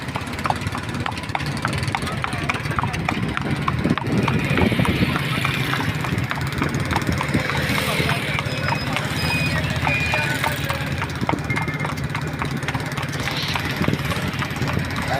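A mare being readied and worked clip-clops along in a steady, even rhythm of hoofbeats throughout, with voices and background noise around her.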